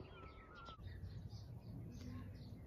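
Faint outdoor morning ambience with bird calls, including a crow-like caw and scattered chirps, heard at a distance under a low background hum.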